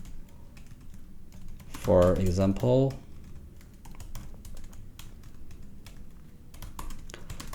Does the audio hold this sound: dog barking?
no